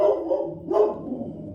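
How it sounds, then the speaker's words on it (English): A female dog at home gives a couple of short, moderately loud barks, close by, in a quiet room. "Easy, girl. That's my dog."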